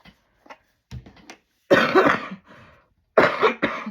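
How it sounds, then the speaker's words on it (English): Several harsh coughs close to the mic, a couple of small throat sounds first, then two loud bursts of coughing. "Excuse me for coughing"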